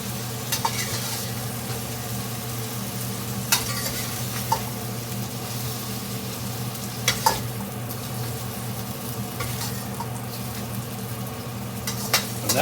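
Chicken fajita meat for gluten-free fajitas fries in a pan with a loud, steady sizzle, broken every few seconds by sharp scraping stirs.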